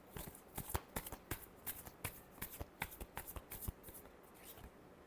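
Tarot cards are shuffled up close in a quick run of crisp riffling flutters and soft slaps, fairly faint and with no talk over them.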